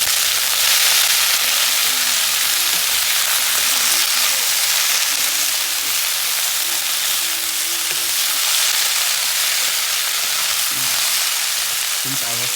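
Mixed vegetables fry in a pan with a steady, dense sizzle and crackle that runs continuously and close up, with no one talking.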